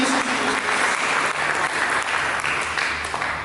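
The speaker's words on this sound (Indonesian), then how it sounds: "Berikan tepuk tangan bagi Tuhan Yesus." Church congregation applauding during a sermon, a dense, steady wash of clapping at moderate loudness throughout, with no talk over it.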